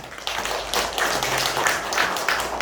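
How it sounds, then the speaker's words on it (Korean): A church congregation at an Easter Sunday service claps together, a dense, steady patter of many hands filling the room without a break. "우리 박수 한번 영광 한번 돌립시다"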